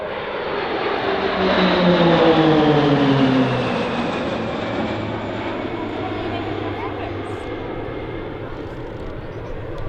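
RAAF Roulettes aerobatic aircraft in formation pass overhead during an air display at RAAF Base Point Cook, their propeller engines swelling loud then droning away with a falling pitch.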